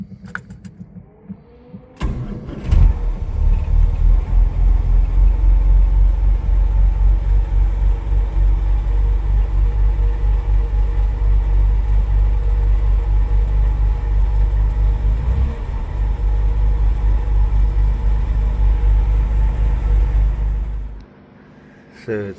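Close, steady rumble of a 1938 SS Jaguar 3.5 litre drophead's engine idling for about twenty seconds, the old car leaking grease and fluid, with a faint mechanical rattle riding on top before cutting off near the end.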